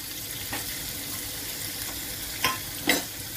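Ginger strips and green chilies frying in a pan give a steady, even sizzle throughout, with two brief sharper crackles near the end; no voices.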